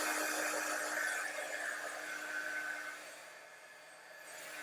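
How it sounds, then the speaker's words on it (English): Heat gun blowing hot air during mixed media crafting, a steady whooshing hiss with a faint motor hum that eases slightly near the end and then picks back up, with no voices. "I really cannot leave that heat gun in one place"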